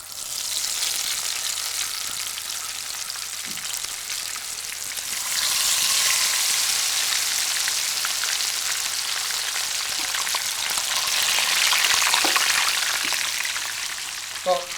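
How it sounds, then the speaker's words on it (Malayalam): Karimeen (pearl spot) fish coated in masala fries in hot oil in a Kerala cooking show, giving a continuous close crackling sizzle that swells louder partway through. "തിളച്ച എണ്ണയിൽ എന്നൊരു ശബ്ദത്തോടു കൂടി നമ്മൾ കരിമീൻ ഇട്ടു"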